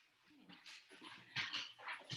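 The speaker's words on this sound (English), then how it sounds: "my dogs are fighting in the background" Dogs scuffling and whimpering in a home during a remote work call, with high yips and whines rising in short bursts, fairly faint in the background and louder toward the end.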